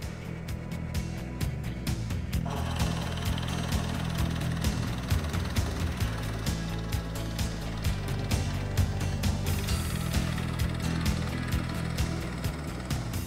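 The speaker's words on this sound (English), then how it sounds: "The holes are drilled with a 1-inch Forstner bit." A drill press bores holes in wood for a picture frame with a 1-inch Forstner bit, a steady mechanical whir and grind with rhythmic clicking, loud and close throughout.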